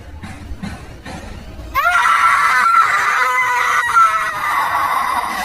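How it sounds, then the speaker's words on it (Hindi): A ghostly scream sound effect from a Hindi horror cartoon bursts in after a quiet start and holds as a loud, sustained, piercing shriek with wavering harmonic tones until the end. "छलावा ने चीख मारी"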